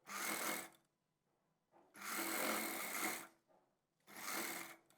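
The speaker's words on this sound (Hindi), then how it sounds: "यहीं से हम इसमें सीधी सिलाई लगाएंगे" An electric sewing machine runs in three steady bursts of close, loud whirring stitching along a velvet churidar pajama seam, with short quiet pauses between runs.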